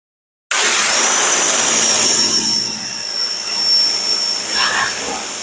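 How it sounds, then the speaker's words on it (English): Water spray rinsing a car hood, starting suddenly as a loud, steady hiss close to the mic and continuing for about five seconds with slight changes in intensity. "You know I have to at least rinse the hood off with you guys watching"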